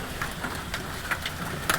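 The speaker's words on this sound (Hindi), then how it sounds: "मुसलसल ओले पड़ रहे हैं, मुसलसल।" Hailstones pelting continuously down onto a street during a sudden storm, heard as scattered sharp ticks and taps over a steady rushing wash, with no voices.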